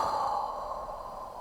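A long, steady exhale during a deep-breathing pranayama exercise, a continuous close airy rush that slowly fades as the lungs empty, with no speech.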